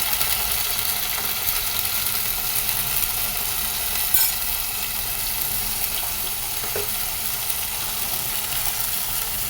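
Ginger garlic paste sizzles and spits in a hot pan, a steady close frying hiss with faint clinks, heard alone without speech.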